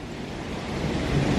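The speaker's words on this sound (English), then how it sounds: "it's ridiculously windy and I'm stuck up here" Strong storm wind buffets the microphone at Epcot, a dense, roaring rush that swells slightly louder over a brief moment.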